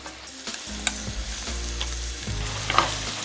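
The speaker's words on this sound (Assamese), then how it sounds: "এতিয়া আলুখিনি অকমান লৰাই লৈছো" Potato pieces fry in hot oil for an Assamese mutton curry while being stirred around the pan, a loud continuous sizzle broken by scraping and clattering stirring strokes, close and without speech.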